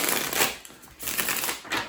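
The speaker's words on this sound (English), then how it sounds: "Let me just shuffle these a few times." Tarot cards shuffled by hand in quick, crisp riffling bursts that rise and fall several times, close and fairly loud with no talking.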